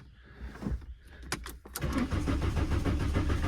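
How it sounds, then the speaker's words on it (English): A Volkswagen Jetta that sat for over ten years cranks over, with a few sharp clicks and rattles before the starter engages into a loud, rapid, rhythmic cranking that continues to the end, close up with no talking. "No way, it just cranks."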